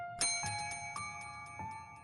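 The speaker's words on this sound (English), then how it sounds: "the bell on the counter rang," A bell on a counter gives a bright, ringing ding that decays slowly, followed by a few softer repeated chimes, close and quiet with no one speaking.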